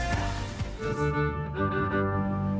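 A violin plays a short, rich melodic passage with sustained bowed notes, heard over other musical accompaniment.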